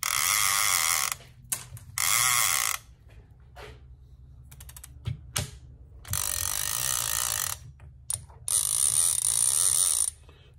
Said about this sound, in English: clicker reeling in